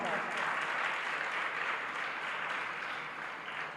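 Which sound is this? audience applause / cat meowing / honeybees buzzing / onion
audience applause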